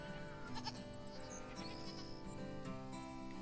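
Goats on a farm in Farm Manager 2021 bleat repeatedly over a busy, layered game soundscape, several overlapping calls at moderate volume.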